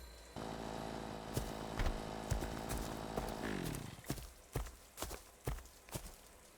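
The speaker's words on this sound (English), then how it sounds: "So we'll just grab my chainsaw." A chainsaw starts and runs with a steady buzzing drone for about three seconds, then winds down, leaving irregular footsteps or knocks nearby.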